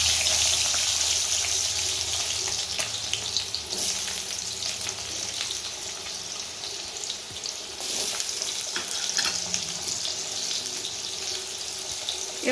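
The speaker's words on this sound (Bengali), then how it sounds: "আমরা আলুটাকে একটু হালকা লাল করে ভেজে নেব" Potatoes fry in hot oil in a pan with green chillies, cooking for a Bengali banana flower and fish head dish, giving a steady, hissing sizzle with occasional stirring scrapes and a light watery crackle throughout.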